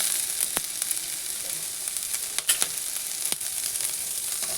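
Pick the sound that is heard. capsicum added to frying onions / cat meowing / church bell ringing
capsicum added to frying onions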